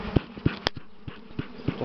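Honey bees swarm and hum around an opened hive during a spring nest expansion, with smoke in use; a soft insect drone runs beneath a series of sharp, irregular knocks and thumps close by.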